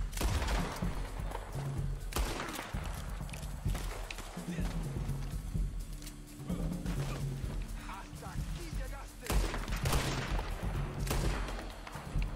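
Gunfire in the Red Dead Online video game, with sharp broadband shots scattered through busy game action, galloping hoofbeats and a voice speaking over it.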